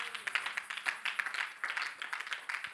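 A church congregation claps steadily in a quick, even rhythm, a dense crowd of hands beating together at moderate loudness with no voices standing out.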